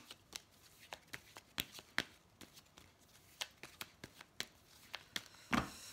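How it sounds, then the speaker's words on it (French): Tarot cards being shuffled and laid out, a run of sharp, crisp riffling snaps and flicks at an uneven pace, close and fairly quiet, with no voice. "je vous mets les cartes petit à petit qui sautent"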